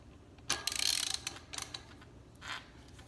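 A wrench tightens the lockring on a bicycle disc rotor, giving short bursts of quiet ratcheting clicks with a pause between them.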